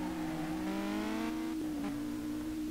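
A sleeper Audi S3 fitted with a nitrous bottle revs hard in the Street Legal Racing driving game, its engine note climbing steadily and then dropping off, heard close and loud with no talking.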